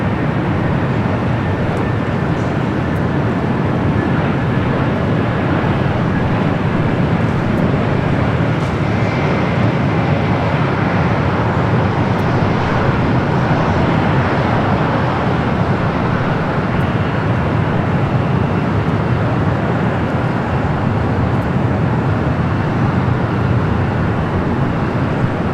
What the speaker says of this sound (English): Got that Cayman Airways 737 MAX 8 heading to Georgetown, and next takeoff here on the south side.